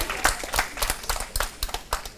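An audience at an international demographics conference gives a round of applause, a burst of many hands clapping in dense, uneven rhythm that carries on steadily throughout.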